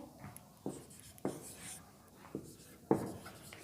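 Writing on a board during an English grammar lesson gives a few short, scratchy strokes, close and distinct, separated by brief pauses.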